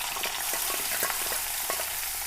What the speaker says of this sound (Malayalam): ഇതിലേക്ക് ഉള്ളിയും വെളുത്തുള്ളിയും ചതച്ചതും 2 പച്ചമുളകും കൂടി ഇട്ട് കൊടുക്കുക.